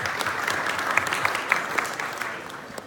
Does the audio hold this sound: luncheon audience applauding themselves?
yes